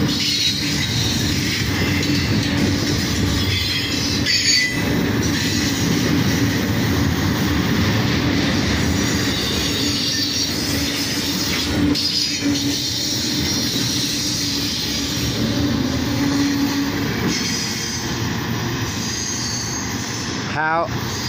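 A CSX freight train on the old B&O Toledo Subdivision rumbles past close by, a loud continuous roar of wheels on rails with occasional screeches and clanks, lasting the whole stretch.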